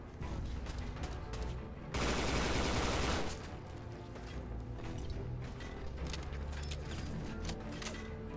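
G3 assault rifle from a Fallout 4 weapon mod firing, rapid repeated shots throughout with a dense, louder burst in the middle, close and punchy, with no talking.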